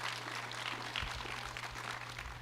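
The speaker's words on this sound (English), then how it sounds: "Let's give her a big round of applause for answering those questions." A small audience claps together in a soft, continuous patter of applause, fairly distant and faint, with a low steady hum beneath.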